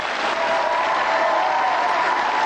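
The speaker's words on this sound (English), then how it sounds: "I think you deserve a round of applause" A British TV variety-show studio audience gives a sustained round of applause, dense and even from start to finish with no talking over it.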